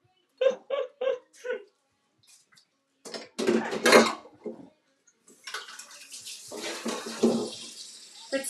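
Water poured from a tap into a cooking dish, a running splash that starts midway and continues with shifting flow, following a few short clattering knocks of kitchenware.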